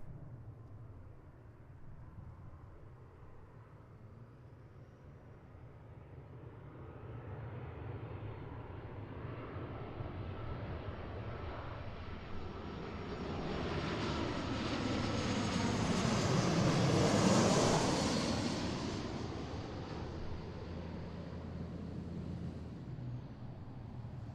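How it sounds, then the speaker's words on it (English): A Boeing 737-800 airliner on its flight, engine roar swelling gradually from a distant rumble to a loud broadband peak around two-thirds through, then easing slightly as it continues steadily. "so here's our flight. Again, 737-800"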